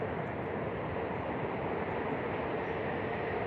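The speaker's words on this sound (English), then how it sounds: "that was a train" A steady, loud rumbling roar fills the whole clip without a break, like a train rolling past close by.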